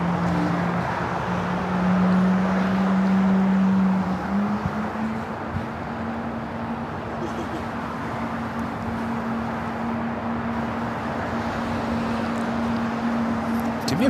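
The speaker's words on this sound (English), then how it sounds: "Yeah, you can hear the engine start." A Swiss airliner's jet engine spins up on the ground at LAX, a steady low whine joined by a rising tone that settles into a sustained hum over broad roar, heard from a distance.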